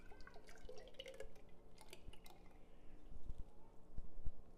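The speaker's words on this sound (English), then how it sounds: "I'm gonna go ahead and pour it in a jar." Homemade oat milk, frothy from an Instant Pot Ace blender, is poured into a jar, giving a faint liquid trickle with scattered drips and splashes, quiet and without talk.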